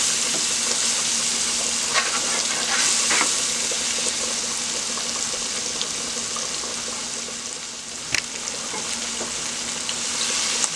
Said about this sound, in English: And then it starts to fry.